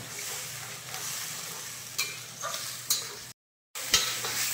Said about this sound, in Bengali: এবার একটু জল দিয়ে ভালো করে পনিরের সঙ্গে মশলাটা কষিয়ে নেব।